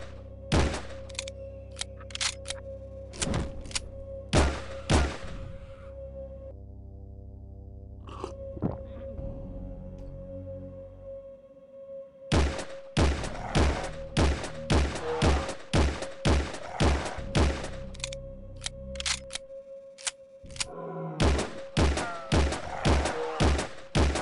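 Pistol fire in the video game Realms of the Haunting: bursts of loud, punchy shots in quick rhythmic runs, split by short pauses, with a steady low tone droning underneath.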